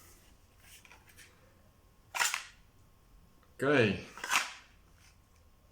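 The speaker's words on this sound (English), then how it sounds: "so just a single shake and it falls out" A pistol holding a fully loaded magazine is shaken in a holster and drops out, making two sharp clattering knocks of handled gear, while someone says a word quietly between them.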